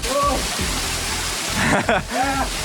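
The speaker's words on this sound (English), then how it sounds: "We're right next to this absolute monstrosity of a waterfall." Steady roar of rushing, falling water from a huge waterfall close by fills the scene, with a voice speaking over it in bursts throughout.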